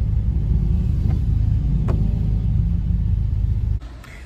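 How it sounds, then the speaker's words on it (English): A car drives through rainy traffic in Tijuana, heard from inside as a loud low road rumble with engine hum and a couple of faint clicks, before cutting off abruptly near the end. "I'm stuck in traffic and it's raining"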